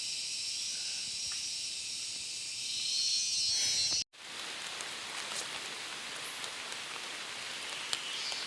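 Rain falls outdoors among trees during a squirrel hunt, a faint steady hiss that drops out briefly midway and then resumes just as softly, with no voices.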